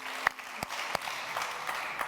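Audience applause in a Turkish TV studio show, a steady patter of clapping with a few sharper claps standing out, moderately loud and unaccompanied by talk.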